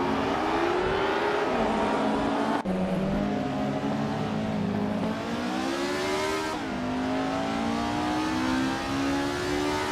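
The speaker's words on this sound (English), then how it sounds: "Elias 98 is currently in 5th place, driving a Techno P68" A Techno P68 race car's engine screams continuously at high revs, the pitch climbing through the gears with abrupt drops at each shift, loud and close.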